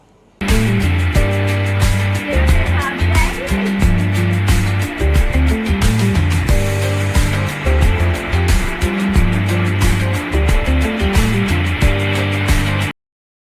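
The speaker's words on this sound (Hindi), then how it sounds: "मैंने ग्राइंडर चला दिया था, ये ग्राइंड होने लग गया था" A mixer grinder blending a banana shake roars loud and steady from the start, its motor whirring with a rhythmic churning chop that runs unbroken almost to the end before cutting off.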